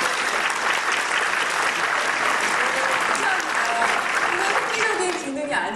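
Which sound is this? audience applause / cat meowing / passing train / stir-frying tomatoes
audience applause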